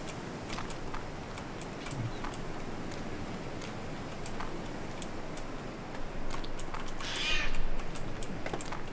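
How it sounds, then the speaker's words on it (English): A cat meows intermittently in Barn Finder amid a steady ambient bed, with sharp ticking clicks scattered throughout and a louder, drawn-out meow near the end. "I wish somebody shut the kitty up."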